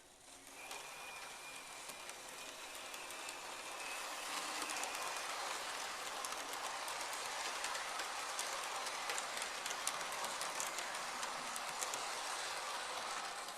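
A Hornby Eurostar model train runs around its track on a slow-speed test, its motor giving a steady whirring hum with fine rapid clicking from the wheels, growing slightly louder as it approaches and then holding level.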